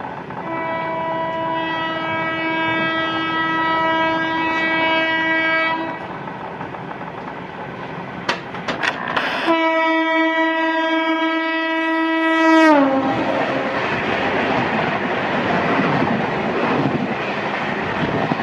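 Express trains, a Rajdhani and a Duronto, overtake the Shridham Express on Indian railway lines. Long loud multi-tone horn blasts sound, then a burst of clattering wheels and rushing noise as a train passes close by, followed by a second sustained horn.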